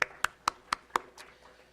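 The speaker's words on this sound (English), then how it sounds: "I think we need to give a round of applause for the efforts put with the board and the administration" At a school board of education meeting, a single pair of hands claps five or six times in a steady, evenly spaced rhythm, faint and somewhat distant, then stops.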